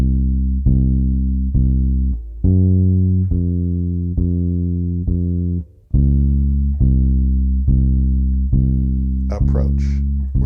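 Walking line on bass guitar, each target note approached from a semitone above: a steady stream of round, sustained plucked notes, loud and close, with a brief noisy scrape near the end.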